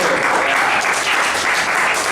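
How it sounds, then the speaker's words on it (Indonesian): A classroom group claps steadily and loudly throughout, a dense, continuous burst of applause with no one talking over it. "Tepuk tangan untuk kelompok 1."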